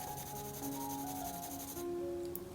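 A tilted pencil shades across paper, giving a steady, close, dry rubbing scrape that runs continuously with slight changes in texture, alone without voices.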